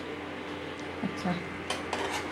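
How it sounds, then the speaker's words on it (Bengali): Metal utensils clink and scrape against a pot as a lid comes off and chicken curry meat is stirred on an induction cooktop, a few distinct knocks and clatters over a steady low hum, close up with no talking. "এবার আমি ঢাকনাটা সরিয়ে মাংসটা আমি ভালো করে নেড়ে দিচ্ছি।"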